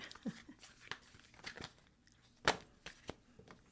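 Soft, irregular riffling and snapping of tarot cards being shuffled, quiet and close, with scattered crisp taps and flicks.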